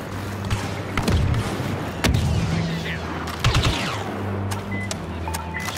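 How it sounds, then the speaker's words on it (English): Star Wars Battlefront II Galactic Assault battle: a grenade blast and heavy thuds burst amid continuous gunfire and fusillade, loud and close, repeating several times over a rumbling combat backdrop. "Grenade deployed!"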